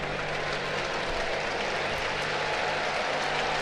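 Applause from a sellout crowd at Great American Ballpark on opening day, a dense, steady wash of clapping and crowd noise filling the whole stretch.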